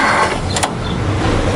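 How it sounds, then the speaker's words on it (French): An old Bernard tractor engine is yanked with its pull starter: a short, loud, close burst of rough mechanical churning with no talk. "Boulon, on va tirer le démarreur."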